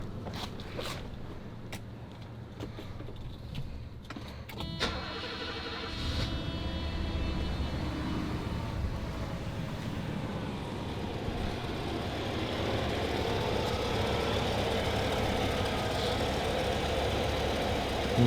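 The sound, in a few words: car engine starting and idling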